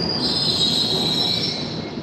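Metro train wheels squeal at night, a sustained high-pitched screech held over the rumble of rolling cars for the whole moment, loud and close.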